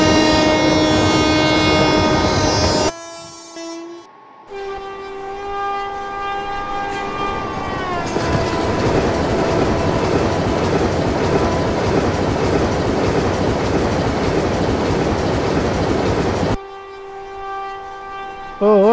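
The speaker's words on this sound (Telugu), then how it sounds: "రాయగిరి స్టేషన్ మీద క్రాస్ అయిపోయి వెళ్ళిపోతుంది మన ట్రైన్." Train running on rails in an Indian train simulator game, a steady rumble and rhythmic clickety-clack under sustained horn-like tones, with a long loud horn blast and brief gaps where the sound cuts out.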